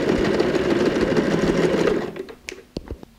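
A sewing machine runs steadily in a continuous whirring burst while back-stitching the binding on a zippered tote bag, then stops, leaving a few light handling clicks.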